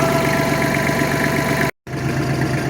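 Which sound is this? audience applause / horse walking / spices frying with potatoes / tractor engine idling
tractor engine idling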